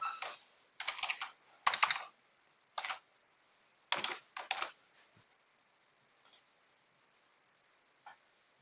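Keys on a computer keyboard are tapped in short, quiet bursts as text is entered in gEDA symbol-editing software, with pauses between clusters of keystrokes and a few isolated taps near the end.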